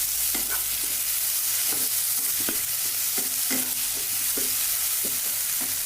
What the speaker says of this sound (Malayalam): ടൊമാറ്റോയും സവാളയും നമുക്ക് നല്ലപോലെ ഒന്ന് വഴറ്റി വെക്കാം